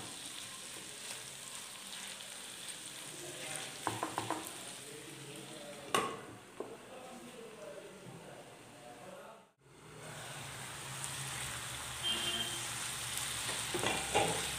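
Paneer veg fingers fry under a lid in a pan, giving a steady broadband sizzle with a few soft clinks. The sizzle cuts out briefly partway through, then resumes just as strongly.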